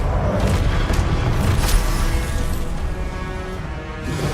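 A Confringo fiery blast from Hogwarts Legacy booms out amid combat, a deep crashing burst with scattered pops and mechanical rumble around it.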